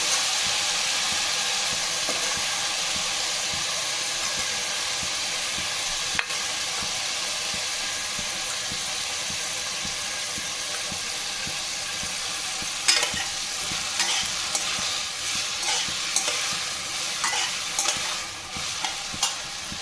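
Chopped Malabar spinach seeds (pui beej) fry in a pan with a steady, loud sizzle and hiss, while a utensil stirs and scrapes now and then, with no voices.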